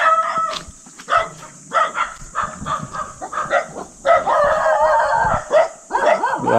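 A dog barks repeatedly in short, sharp bursts, close by, with brief gaps between barks and some background noise.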